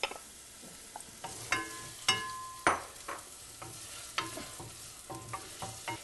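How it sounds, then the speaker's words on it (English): Food sizzles and crackles steadily in a frying pan, with sharp spitting pops scattered throughout and a clatter of stirring, close and moderately loud with no talk. "You hear it sizzling?"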